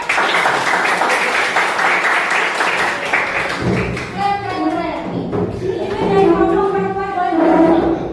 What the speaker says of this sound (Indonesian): Oke, guys, terima kasih. Tepuk tangan.